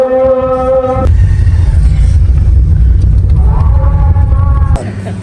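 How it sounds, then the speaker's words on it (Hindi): A car pulls up close and idles with a heavy, steady low rumble for several seconds, starting with a sharp thump, with some overlapping tonal sound early on and again near the end. "चलो जी गाड़ी आ गई।"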